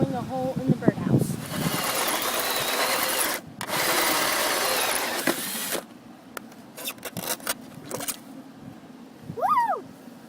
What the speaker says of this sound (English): I'm going to be drilling a hole in the birdhouse.